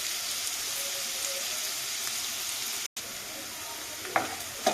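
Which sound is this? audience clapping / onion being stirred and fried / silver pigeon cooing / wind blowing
onion being stirred and fried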